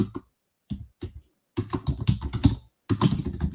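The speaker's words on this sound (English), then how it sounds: "So let me type it in our WebEx chat." Computer keyboard typing comes in quick bursts of close, crisp key clicks separated by short silent pauses.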